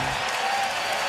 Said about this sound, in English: Crowd is fired up right now.